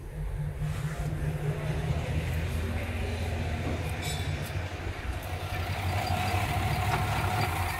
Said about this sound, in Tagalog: On ko yung aircon para ramdam natin yung pangangatal ng makina.